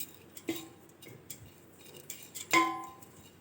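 Roasted moong dal is stirred into roasted flour in a pan, producing a few soft, quiet scrapes and two clear metallic clinks from the utensil against the pan.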